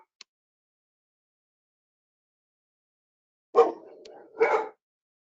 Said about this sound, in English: Sorry, I've got dogs barking.